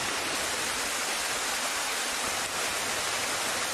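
Steady, loud roar of falling water from a small waterfall in the Hundikuristik limestone canyon at Kadriorg, Tallinn, a dense continuous rush with no voices over it.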